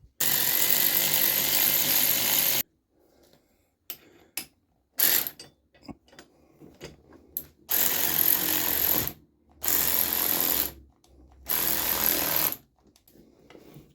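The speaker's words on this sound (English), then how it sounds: "I've got a adapter on the power ratchet so I can use the socket on it for the spring compressors" A power ratchet with a socket adapter drives spring compressors on Mk3 Ford Focus suspension springs for a 1975 Vauxhall, whirring loudly in a long burst followed by several shorter bursts separated by silence.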